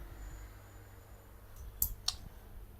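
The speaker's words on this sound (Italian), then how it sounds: "Se io tengo premuto CTRL e vado sul mouse a agire sulla rotella, lo schermo si ingrandisce." A computer mouse scroll wheel gives two or three faint, crisp clicks near the end while zooming the screen on an iPad, over a quiet background hum.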